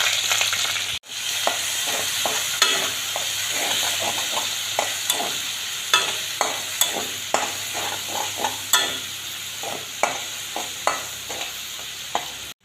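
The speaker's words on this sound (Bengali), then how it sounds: "পেঁয়াজ কুচি ভাজা ভাজা হয়ে গেছে।" Chopped onion, garlic and ginger frying in oil in a pan, a constant close sizzle punctuated by a regular series of sharp stirring scrapes, no voices.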